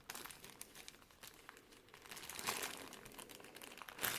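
Plastic blister packaging around a new audio cable, unboxed with a Bluetooth wheel speaker, is torn and crinkled open by hand, giving a close run of rustling, crackling bursts that peak near the end.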